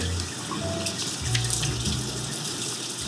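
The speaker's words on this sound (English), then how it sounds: "I turn the water on and make sure it's at temperature" A water tap runs steadily into a sink during C-41 film developing, a constant close splashing hiss for a few seconds with no talk.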